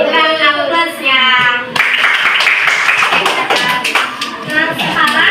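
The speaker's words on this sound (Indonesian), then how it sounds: "Berikan aplaus ya." A classroom group claps for a finished group presentation, brisk hand clapping filling the room after a teacher's voice, with children's voices mixed in.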